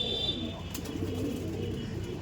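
Giribaz pigeons, including Teddy Kamagar and Kaldom birds at a pigeon market, coo softly and continuously nearby, a low, steady murmur with no talk.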